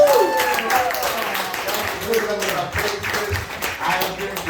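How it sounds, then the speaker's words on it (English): Applause from a comedy show crowd in Sacramento, a burst of scattered clapping close by, with someone talking over it. "Give yourself a hand."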